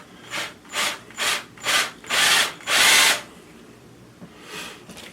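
A power drill with a broken bit is forced through the backing of an old mirror in a series of short whirring bursts, the last ones longer and louder, with a brief pause before a final burst.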